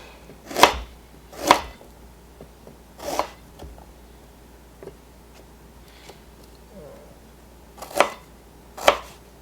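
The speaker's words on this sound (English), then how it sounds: "Put it on a cutting board. Make thin slices." Quince being sliced thinly with a knife on a cutting board: six distinct chops land at uneven intervals, close and crisp against a quiet room.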